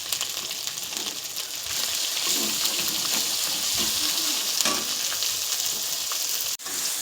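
Ground spices with green chili, turmeric and salt sauté in a pan with a continuous, close, loud hiss, broken by soft scraping stirs and one brief tap near the end.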